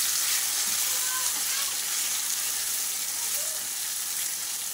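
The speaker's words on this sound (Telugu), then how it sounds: "ఇప్పుడు నిమ్మకాయ ముక్కలు ఇందులో వేసేసుకొని కలుపుకుందాం" Lemon pieces stirred into a hot, sizzling tempering for Telugu-style lemon pickle, giving a steady, close frying hiss with faint scraping of the stirring spoon throughout.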